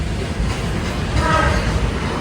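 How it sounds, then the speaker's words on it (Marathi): A Konkan-route train arriving from Mumbai rumbles steadily nearby, a low continuous roar with faint rail noise swelling slightly as it draws in. "ती बघ आली ट्रेन."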